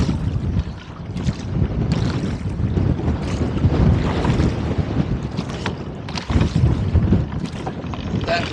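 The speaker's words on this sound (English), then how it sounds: "That was an instant gust of probably up around 20." A sudden wind gust sweeps across Jenkinson Lake while rowing, roaring and buffeting the microphone for several seconds with loud, broadband rush that swells and stays near and steady, with brief lulls between surges.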